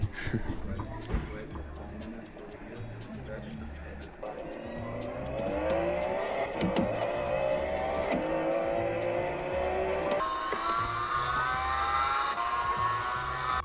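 A Porsche racing simulator at a museum plays car sounds: an engine revs up through rising, climbing pitches with tire squeal, steady and fairly loud, while people talk in the background.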